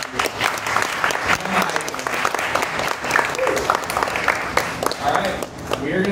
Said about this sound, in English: So if you guys can give her a very warm applause.